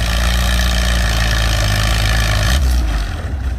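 A 2,500 pound antique tractor's engine roars close and loud during a tractor pull, a steady heavy drone that shifts and eases off toward the end.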